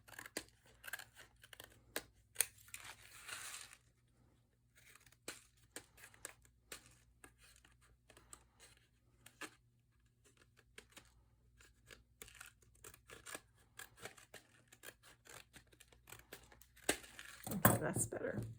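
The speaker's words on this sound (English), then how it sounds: "So I'm going to take my scissor" Scissors snip and trim a shaker card at a crafting table, giving a series of quiet, close clicks and cuts with soft paper rustling and a louder crinkle near the end.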